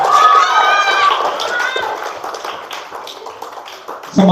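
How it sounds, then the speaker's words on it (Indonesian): Children at an elementary school Ramadan religious program clap their hands in a scattered burst of taps after a voice speaks, fading into quieter, uneven clapping. "Tepuk tangan dong."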